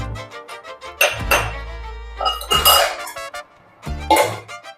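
Soaked soya chunks being stirred with salt in a bowl for a crispy soya chunk snack, giving several clinking and scraping knocks of utensil against dish with short pauses between, close and fairly loud, no talking.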